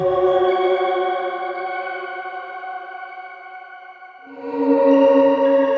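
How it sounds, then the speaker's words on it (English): A sustained synthetic tone with a long, smooth reverb tail, its harmonics lingering and washing out before a new lower note enters, no voices. "With this one you can use the built-in reverb to get more of a tail"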